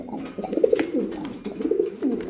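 Racing pigeons coo inside a loft, soft throaty rolling coos repeating in short bursts, heard close with a little background rustle.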